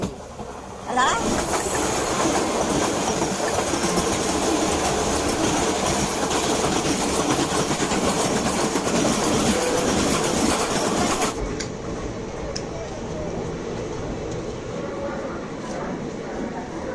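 Steady rumble and rattle of the Howrah–Raxaul Express passenger train rolling along the rails near Asansol station, loud and continuous, softening slightly near the end.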